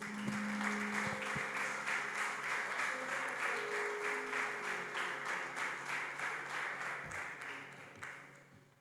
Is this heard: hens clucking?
no